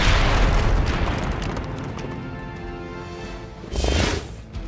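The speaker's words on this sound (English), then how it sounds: "Explosions and crap." Explosions in the video game Marvel's Midnight Suns: a heavy, loud boom at the start that rumbles and decays slowly, followed by a second, softer burst near the end.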